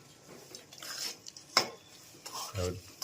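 A utensil stirs desi jaggery into coarse roasted flour for sukhdi in a home kitchen, giving soft scraping and a few sharper clinks against the pan, faint and close.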